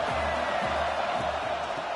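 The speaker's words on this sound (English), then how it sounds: "This crowd bringing the energy and noise early." Crowd at a football game making a steady, dense roar of cheering and noise that holds level throughout without any distinct peaks.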